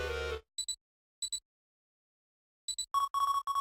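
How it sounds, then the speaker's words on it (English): A detective badge rings in a Detective Conan video game, a sequence of short electronic double beeps separated by silent gaps, followed by a faster cluster of bright ringtone chirps. "The detective badge is ringing."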